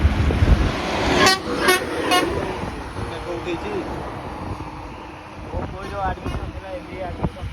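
Three short car horn toots ring out close together early on, with a vehicle engine rumbling past and voices chattering throughout.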